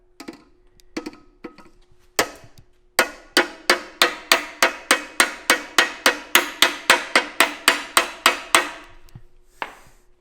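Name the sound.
light hammer tap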